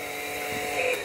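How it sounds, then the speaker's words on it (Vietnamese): The engine of a 2009 Kia Morning with manual transmission idles smoothly, a steady close hum with a high whining tone, heard alone. "máy nổ êm."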